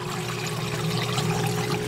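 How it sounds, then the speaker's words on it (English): Water pours steadily into a bio ball swirl filter on a hot tub aquaponics system, a continuous close trickling and rushing flow over a low pump hum, with no talking. "And I can hear water coming in."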